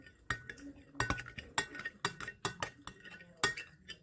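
A spoon stirs a crushed substance into a glass of liquid until it dissolves, during a digestion and hydrolysis experiment, making about eight close, bright clinks against the glass at an uneven, loose rhythm.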